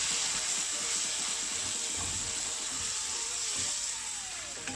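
Onions, coriander leaves and ginger sautéing in a pan, a constant bright hiss of frying with faint stirring clicks underneath, steady and close, with no voices.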